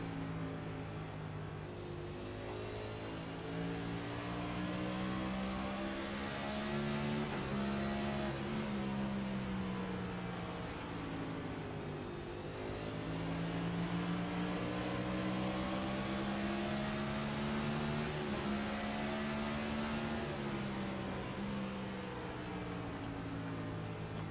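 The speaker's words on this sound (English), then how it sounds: "Take a ride on board this time by for Ross Cato's number 12 team and see what's keeping him in the loop." The race car's engine roars steadily from onboard, heard close and loud throughout, with its pitch rising and falling through repeated gear changes as the car laps the Richmond oval during a Richmond 200 race.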